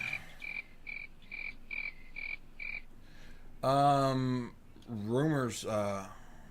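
A cricket-chirping sound effect plays about eight short, evenly spaced chirps. A person's voice then briefly follows.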